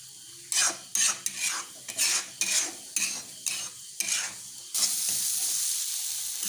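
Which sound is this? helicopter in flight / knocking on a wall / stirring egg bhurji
stirring egg bhurji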